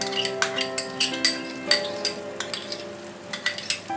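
Spoon scraping and clinking in a pan as ground tomato paste is stirred into a spiced masala, a run of quick irregular taps and scrapes over a faint sizzle, close and clear.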